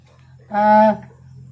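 A single loud cow moo from cattle being raised for growth on a farm, clear and close against a low steady background hum, with no speech.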